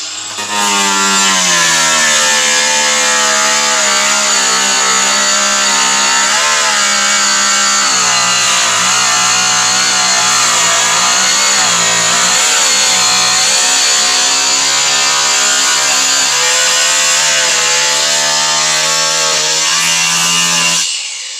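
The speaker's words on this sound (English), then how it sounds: "Yes, I'm operating a grinder with long hair." An angle grinder cuts into ABS plastic with a loud, continuous whine that wavers in pitch as the load changes, steady and close for the whole stretch with no talking.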